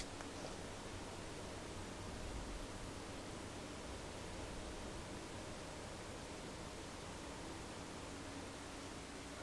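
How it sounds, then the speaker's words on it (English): Constant soft whooshing of PC case fans in a Cooler Master HAF X case running around 850 RPM, a steady broadband hiss with no change throughout. "the airflow coming through there with the fans on around 850"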